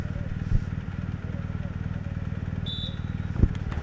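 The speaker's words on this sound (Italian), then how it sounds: "Si muovono le moto" A group of motorcycles moving off at the start of a women's road cycling stage race, a steady mid-pitched engine drone with faint clatter, heard under background commentary.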